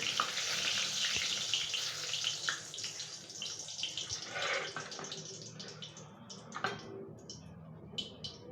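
Panch phoron and dried red chilies hit hot oil for a mango pickle, crackling and sizzling loudly at first, then thinning into scattered pops and faint splutters, with no talking.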